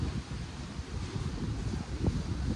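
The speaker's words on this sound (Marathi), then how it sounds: "लय वारं सुटले गारगार" Strong cold wind blows during heavy rain in Baramati, a steady rough rumble buffeting the microphone, rising and falling in gusts without any talking.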